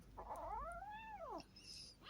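Cats caterwaul in a drawn-out, rising-and-falling angry yowl, close and clear, followed by the start of another wail.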